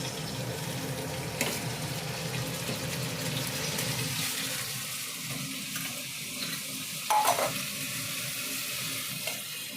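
Hot tempering sizzles in a home kitchen while rice is being cooked, a broad steady hiss that fades after a few seconds into quieter kitchen sounds, with no talking.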